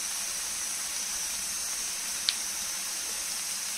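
Onions frying in a pan for a desi-style mutton rogan josh, a steady, even sizzle and hiss throughout with one brief pop.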